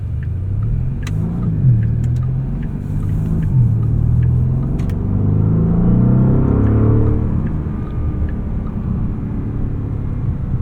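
A 2025 Porsche Panamera GTS pulls away from a green light, its engine a loud, steady low rumble that rises and shifts in pitch over several seconds from inside the car, with no talking.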